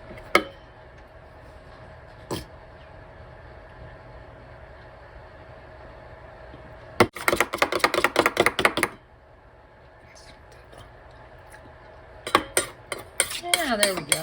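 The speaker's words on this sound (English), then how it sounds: "I'm just going to stir this up." Ketchup, mayo and mustard being stirred together in a bowl for pizza sauce, bursts of rapid clinking and scraping of a utensil against the bowl separated by quiet pauses, close and fairly clear.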